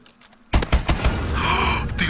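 Lever-action rifle shots in Call of Duty Advanced Warfare, a burst of close, sharp cracks after a quiet moment, followed by continuing game noise.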